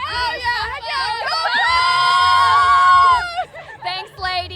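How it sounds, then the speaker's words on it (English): Spectators at the Oklahoma City Memorial Marathon shout an OSU cheer, several nearby voices chanting loudly in long held tones with short breaks between bursts. "And you wanted to do an OSU cheer?"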